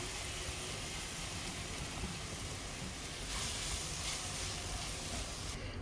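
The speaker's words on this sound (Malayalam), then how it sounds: "ഇനി നമുക്ക് എടുത്തു വെച്ചിരിക്കുന്ന ഏത്തപ്പഴം അതിലേക്ക് ഇട്ട് കൊടുക്കാം ഇതൊന്ന് നന്നായിട്ടൊന്ന് വഴറ്റിയെടുക്കണം" Ripe plantain sautés in ghee in a pan, making a continuous hissing sizzle that stays loud and even from start to finish with no talk.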